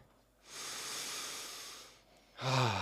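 Deep breathing by people: a long, steady, airy exhale lasting over a second, a brief pause, then a sharper, louder breath, close and clear with no talk.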